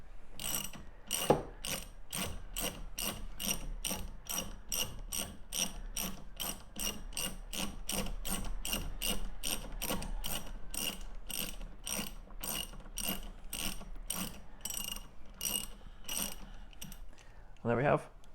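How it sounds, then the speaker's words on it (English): A ratchet wrench on a stud extractor tool loosens and turns a stud in a quick, steady run of sharp clicks, close and clear, lasting throughout. "as we hold the stud extractor tool as we loosen, while it's doing that, it's tightening the mouth around the stud"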